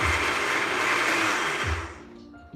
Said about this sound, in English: You're gonna hear a blender for a second